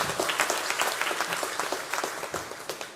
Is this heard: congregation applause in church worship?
yes